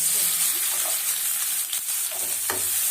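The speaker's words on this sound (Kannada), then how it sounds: "ಚೆನ್ನಾಗಿ ಫ್ರೈ ಮಾಡ್ಕೊಳ್ಳೋಣ ಈರುಳ್ಳಿ ಚೆನ್ನಾಗಿ ಫ್ರೈ ಆಗಿದೆ" Finely chopped onions and garlic fry in hot oil in a pan, a loud, dense, steady sizzle with occasional stirring scrapes, close up and with no talking.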